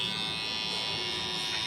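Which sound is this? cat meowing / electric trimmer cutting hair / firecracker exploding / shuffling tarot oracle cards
electric trimmer cutting hair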